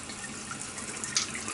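Tap water runs steadily over raw chicken thighs in a sink, a continuous hissing splash with a brief brighter splatter midway, close and without talk.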